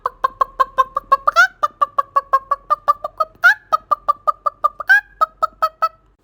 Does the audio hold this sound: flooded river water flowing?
no